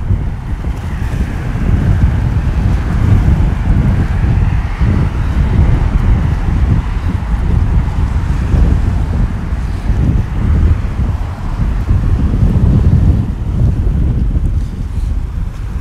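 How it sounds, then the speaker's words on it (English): Strong outdoor wind buffets a microphone at sunset, a loud, continuous low roar with gusty swells throughout, alone with no voices. "Wind's definitely picking up though."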